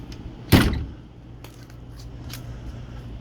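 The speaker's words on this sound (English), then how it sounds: "Opening up this bay door." A motorhome storage bay door pops open with one sharp, loud clack of its latch, followed by a few faint clicks and light rattles against a low outdoor hum.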